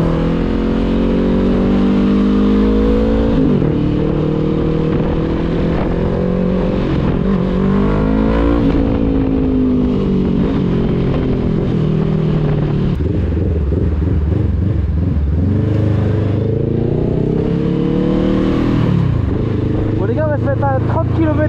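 A Honda CB500-series trail motorcycle revs hard and accelerates up close, its engine note climbing and dropping through repeated swells and gear changes over about twenty seconds, loud throughout, with occasional talk underneath.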